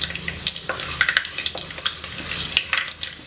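Fenugreek seeds fry in hot oil as the base of a Tamil fish curry, a bright continuous sizzle with scattered crackles and pops, close up and with no talk.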